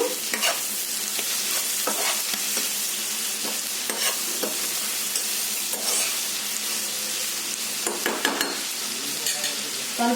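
A spoon stirs turmeric into boti (tripe) curry in a pan, with repeated scraping strokes and bursts of sizzling at an uneven rhythm, close and clear, with no voices.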